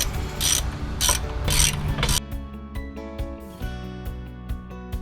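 A ratchet tightens the two brake caliper bracket bolts on the front brakes of a 2008 Saturn Vue, with rapid pawl clicking that first runs in dense bursts and then breaks into sparser, distinct clicks, close and clear.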